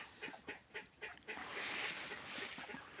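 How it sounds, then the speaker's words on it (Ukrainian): A domestic duck on a poultry farm gives a run of loud, close quacks in a quick rhythm, followed by a short burst of honking with rustling behind it. "Ось моя качечка."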